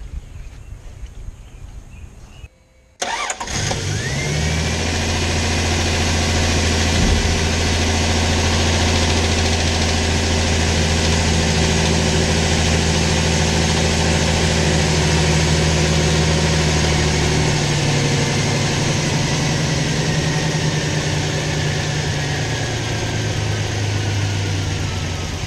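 An engine cranks and catches, then settles into a loud, steady idle with a constant low hum that carries on without talk.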